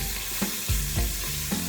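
Short ribs browning in an Instant Pot for red wine short ribs, a steady close sizzle of searing meat with a few soft stirring clatters, no talking.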